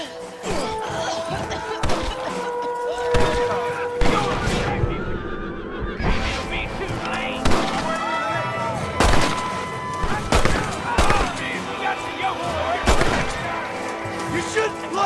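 Repeated gunshots from a Wild West shootout in the Red Dead Redemption video game, sharp loud cracks scattered irregularly across the scene, mixed with horse whinnies and game voices.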